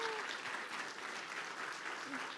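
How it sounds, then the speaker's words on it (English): Quiet, steady applause from an audience at a bookstore author event for the book Destroy This House, a dense wash of clapping throughout with a brief voice at the start. "So how about we give a round of applause to Davy and Amanda Uhle"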